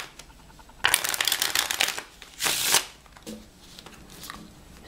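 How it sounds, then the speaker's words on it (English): Two quick riffles of a deck of cards being shuffled, crisp and close, followed by a few softer card taps. "And then give it another quick shuffle."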